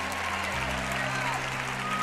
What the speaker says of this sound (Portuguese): Dê ao Senhor uma grande salva de palmas